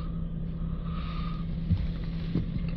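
A Jaguar XF 3.0 engine idles steadily with a low, even hum and a faint whine, heard fairly close with a couple of small knocks and no voices.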